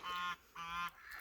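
Geese calling back and forth in two loud, drawn-out honking bursts, followed by a fainter call and low background noise.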